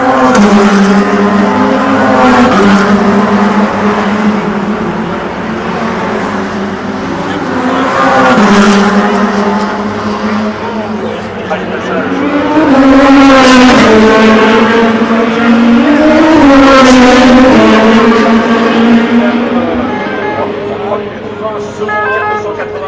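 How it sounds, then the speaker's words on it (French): Le Mans race cars roar past the start-finish area, loud engine notes rising and falling in pitch as they pass in a continuous stream, with a commentator talking over them. "watch next time they come past the start-finish area"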